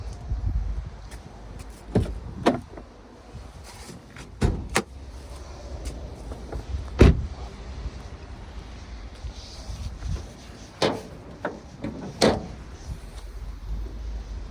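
Someone opens the hood of a 2011 BMW X3 xDrive 2.0d diesel. Several dull clunks and latch thumps are spread unevenly over a steady low background hum, close by, with no talking.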